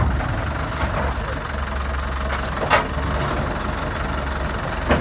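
A tractor engine idles with a steady low chugging throb, close by, with a few faint clanks rising over it and no talking.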